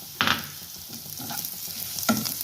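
Curry leaves land in a sizzling creamy mushroom masala with two sharp crackling bursts, a near, steady frying hiss between them and some light stirring, with no voices.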